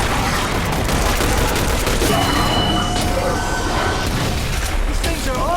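Gunfire crackles in The Bureau: XCOM Declassified as dense, continuous bursts and booms, loud and close, with mechanical clatter and combat voices mixed in.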